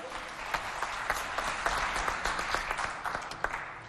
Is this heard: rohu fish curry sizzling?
no